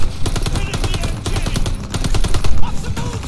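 Machine gun fire in the Call of Duty Vanguard campaign, loud rapid bursts of automatic shots packed densely across the whole stretch, with heavy booming impacts underneath and a surge near the end.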